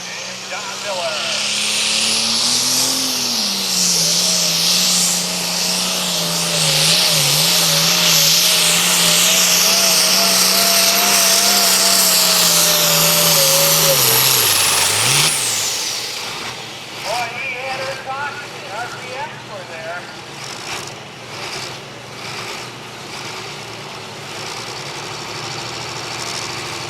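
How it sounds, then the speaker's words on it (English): A 500 cubic inch pulling truck roars loud and close during a truck and tractor pull run, its engine note climbing and holding steady for about fifteen seconds before cutting off abruptly, followed by quieter crowd and arena noise. "he got every inch out of that 500 cubic inch motor out there"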